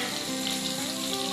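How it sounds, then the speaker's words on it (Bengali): Fish sizzling and frying steadily in hot oil for a Bengali mustard fish curry (shorshe macher jhal), a continuous close crackle with no voices. "এইভাবেই ভালোভাবে ভাজা হয়ে গেলে মাছগুলোকে তেলটা ঝরিয়ে নামিয়ে নেব"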